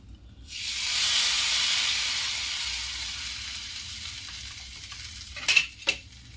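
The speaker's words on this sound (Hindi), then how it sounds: "अब इसमें मैं तड़का लगाऊंगी।" Spices for tempering kadhi pakora hit hot oil with a sudden loud sizzle that slowly fades, followed by two quick metallic clinks of a utensil against the pan.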